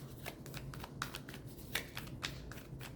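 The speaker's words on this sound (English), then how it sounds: "1 more shuffle." Tarot cards being shuffled by hand, a run of quick crisp riffling snaps and soft card slaps at close range, fairly quiet with no talking over it.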